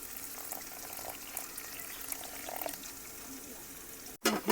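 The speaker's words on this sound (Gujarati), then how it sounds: "અને હવે એમાં પાણી નાખી દઈશું." Water poured into an eggplant curry masala in a pan for Gujarati-style ringan nu shaak, a steady pouring hiss that runs under faint background noise and ends in a brief louder splash near the end.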